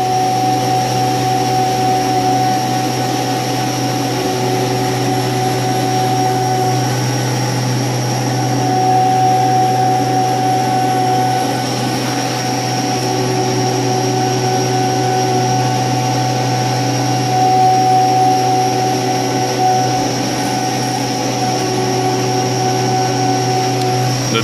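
A CNC mill cuts a second metal piece dry, without coolant: a loud, steady machine whine with constant tonal hum that drones on for the whole stretch with only slight swells.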